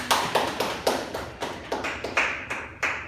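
Classroom audience applause in a high school biology class, a short burst of about a dozen sharp, fairly close claps in a loose rhythm, with no talking.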